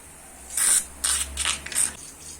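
Cleaner sprayed into a car's EGR valve in four short, close hissing bursts separated by brief pauses.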